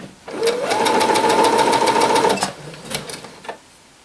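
A sewing machine stitches the seams of a simple blouse in one steady burst of rapid mechanical chatter lasting about two seconds, followed by a few quieter clicks as it stops.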